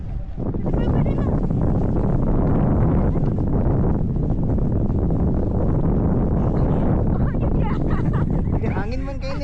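Strong wind roars and buffets the microphone throughout during parasailing at Boracay, a loud continuous rumble with voices shouting faintly underneath.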